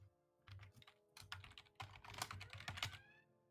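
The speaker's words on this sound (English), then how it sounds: "Typing it out now." Quick bursts of keystrokes on a computer keyboard, quiet and close, pause briefly and then resume in a steadier, denser run of clicks.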